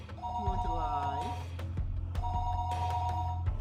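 Telephone rings in the Higurashi video game, two bursts of a repeating electronic ring over a steady low hum and background game music, with a person talking over it.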